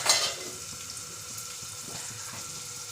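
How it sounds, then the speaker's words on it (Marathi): Dal frying in hot oil with asafoetida and turmeric: a loud sizzling burst at the start settles into a steady, close crackle with faint stirring and no talk. "हिंग आणि डाळ हळद हे टाकून एकदा पुन्हा व्यवस्थित तळून घेतलं जाईल"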